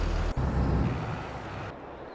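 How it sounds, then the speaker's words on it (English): Tractor engine idling in Farming Simulator 22, a low rumbling drone with a brief dropout early on, fading slightly toward the end, with no talking. "Right, I'm going to leave that engine running."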